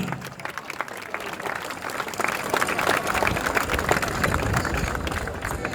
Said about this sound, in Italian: applauso, vai!